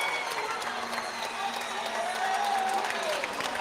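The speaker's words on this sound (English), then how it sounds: "Listen to the German crowd going absolutely nuts as Morris is out here just crushing it." A German crowd roars and applauds at a men's sports competition, a steady wall of cheering and clapping heard from a distance, with faint commentary over it.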